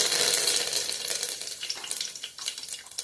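Curry leaves crackling and sizzling loudly in hot oil with mustard seeds for a sprouted matki usal tempering, a dense spitting hiss close by that eases into scattered pops.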